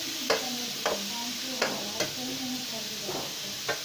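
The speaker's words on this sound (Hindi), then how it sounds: "अब ये प्याज को हम ब्राउन करेंगे" Onions browning in a pan for a village-style aloo anda curry: a steady frying sizzle with a few short clinks and scrapes of stirring on top, close and moderately loud.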